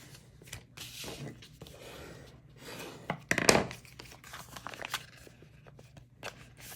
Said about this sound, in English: I will use my scissors and really crease those edges